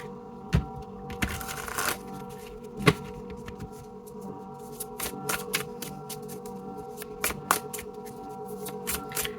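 A Memento Mori Lenormand and Oracle card deck being shuffled by hand, with soft riffling and sliding card noises in irregular bursts and a few sharper snaps, close and fairly quiet.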